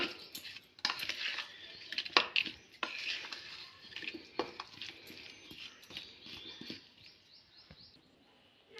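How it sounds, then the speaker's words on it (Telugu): Tempering stirred into onion chutney with a spoon, giving steady scraping and clinking against the vessel, close and moderately loud, with faint bird chirps in the background and no talk. "పోపు బాగా కలియబెట్టాలి"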